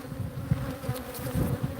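Bees buzzing in a steady low drone around a hive during pest treatment, a dense swarm close by with individual insects passing near, no speech.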